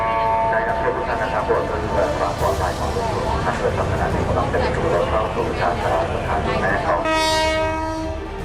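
A train rumbles past close by with rattling wheels, and a loud blaring horn sounds near the end, with voices mixed into the din.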